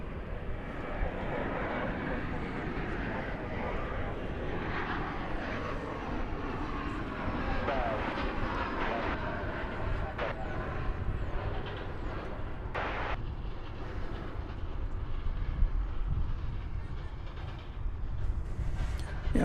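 Airliner arriving from Fargo at DFW Airport, a steady moderate jet rumble with whistling tones in the background, while people talk over it throughout.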